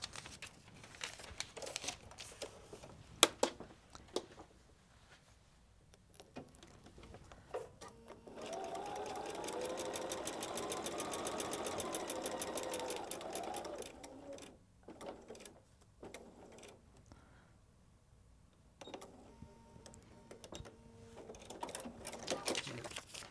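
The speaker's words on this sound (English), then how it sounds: "So let's look and see where we're going to sew now." A sewing machine stitches through fabric on a foundation paper piecing block, a steady whirring run of several seconds between quieter stretches of paper crinkling and handling, with no talk over it.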